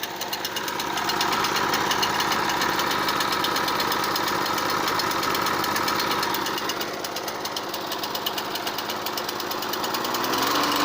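A Notac lawnmower engine catches after a brief moment and settles into a loud, steady, close-up running clatter with a fast rhythmic knock that continues without a break, and no voices are heard.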